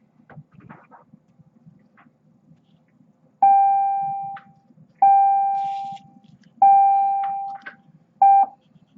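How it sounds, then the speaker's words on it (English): An electronic doorbell sounds four times in a row, each a clear steady tone lasting about a second, the last one cut short. There is a faint rustle beforehand and no talking. "Sorry about that bell."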